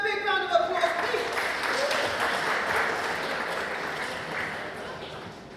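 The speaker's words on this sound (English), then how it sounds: "Give him a big round of applause, please." Audience at a youth participation event breaks into applause after a brief opening voice, many hands clapping in a full, steady patter that slowly tapers off.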